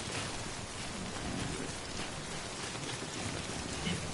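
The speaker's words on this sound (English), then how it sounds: "Don't stay out in the rain any longer than you have to." Steady rain falling in the Death Stranding video game, a dense even hiss of drops at constant loudness, alone with no voices.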